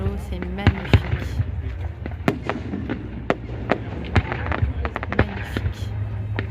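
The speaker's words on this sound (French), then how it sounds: "On a un double feu d'artifice." Fireworks display at Viry-Châtillon, over water, with many sharp bangs and crackling bursts at irregular intervals against a steady low rumble, fairly loud and distant, while voices talk in the background.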